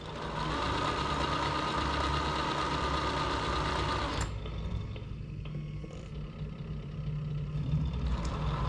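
A Tamiya Scania 770S V8 8x4/4 RC truck's simulated engine sound hums loud and steady, then drops to a quieter idle partway through, with faint clicks as gears change, and no talking.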